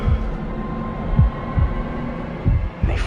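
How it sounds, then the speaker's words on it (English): A movie-trailer heartbeat sound effect thumps in low, deep double beats, repeating at a steady slow pace over a humming drone, loud and close with no talk. "It's a heartbeat."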